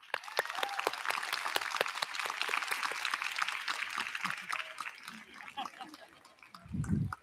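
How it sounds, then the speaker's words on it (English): A convocation audience at a Singapore arts university gives a scattered, moderately loud round of clapping that tapers off, followed by a brief low thump or rustle at the close. "let us please offer a round of applause in honor of all of those who have helped us to get here"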